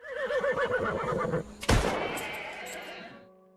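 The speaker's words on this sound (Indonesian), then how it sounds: "Melihat kuda itu sudah tak bisa diselamatkan, Pablo lantas memerintahkan anak buahnya untuk segera menembak mati kuda itu" A horse whinnies loudly in a dramatized film scene about Colombian drug lord Pablo Escobar's men putting down an injured horse, followed by a sharp burst like a gunshot and a fading, ringing tail.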